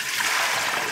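Water pours and splashes steadily out of a bowl of pressed nappa cabbage, a close, continuous wet trickle and splatter draining away.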